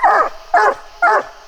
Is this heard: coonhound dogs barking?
yes